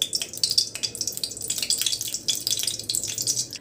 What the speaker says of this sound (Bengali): ওই তেল না ঘি দিয়ে দিলাম।